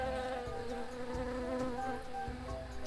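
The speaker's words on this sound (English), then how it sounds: "So we're going to the bees" A swarm of bees droning in the video game Tales of Monkey Island: a steady, continuous buzz that holds evenly throughout with no speech over it.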